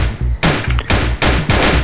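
Mafia gunfire in the street in the video game Emergency Hamburg, four or five sharp, loud shots in quick bursts over a low rhythmic engine-like rumble.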